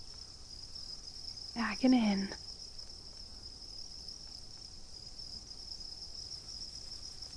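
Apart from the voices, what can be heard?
crickets chirping (stridulation) at a cricket farm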